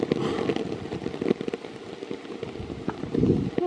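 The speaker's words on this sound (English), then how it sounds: "I think there's rain." Rain falls outdoors in a soft, steady patter with scattered sharper drips and crackles, fairly faint and close, with no voices.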